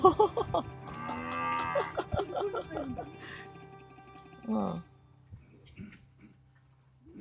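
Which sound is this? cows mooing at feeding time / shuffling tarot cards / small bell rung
cows mooing at feeding time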